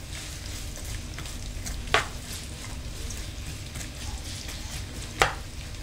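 Finely chopped onion stirred in hot oil for an okra stew: a soft, steady sizzle with light scraping, broken by two sharp utensil clicks against the pan.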